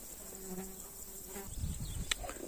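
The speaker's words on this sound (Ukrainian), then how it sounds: "І бачу от дуже багато комах літають." Many insects fly around flowers beside a garden, their faint buzzing wingbeats drifting past quietly against a soft outdoor background, with short hums and a few rustles but no voices.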